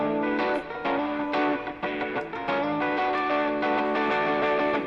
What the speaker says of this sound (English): there was one more kind of rhythm guitar track that is in there as well, just layered up just to fatten up the